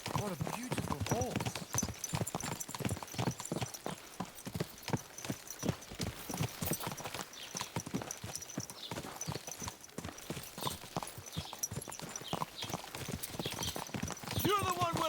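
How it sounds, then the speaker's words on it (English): Horse hooves clip-clop in steady, even rhythm throughout a ride in the video game Kingdom Come Deliverance II, close and distinct, with brief speech over them and a faint whinny. "My, what a beautiful horse."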